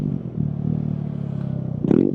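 A Kawasaki Z125 Pro minimoto idles steadily close by while warming up, a low throbbing drone that holds even throughout, with a brief revving blip near the end.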